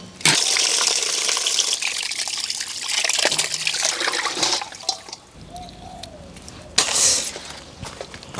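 Blanched soft-shelled turtle and pork ribs rinsed under running water, a gushing splash from the tap at first, then quieter trickles and drips with a short renewed gush near the end.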